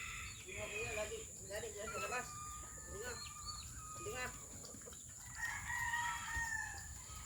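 Roosters crow repeatedly in long rising calls, fairly close, with a constant high insect hum in the background.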